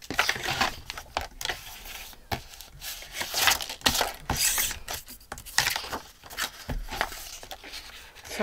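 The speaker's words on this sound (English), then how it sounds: "I'm just using my rotary blade." A rotary blade rolls through paper at a craft table, producing a steady stream of close, dry crunching and scraping strokes with small knocks from handling the materials.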